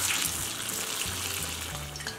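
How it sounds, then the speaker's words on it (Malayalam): Urad dal vada frying in hot oil, giving a steady, even hiss and bubbling sizzle that continues close and moderately quiet throughout, with no talking. "ഇനി നമുക്കിത് എണ്ണയിലിട്ട് ഫ്രൈ ചെയ്തെടുക്കാം."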